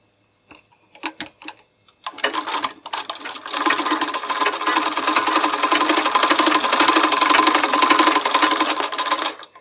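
After a few scattered clicks and taps, a sewing machine starts up and runs steadily for several seconds, stitching a blouse with a fast, continuous mechanical whir and needle patter.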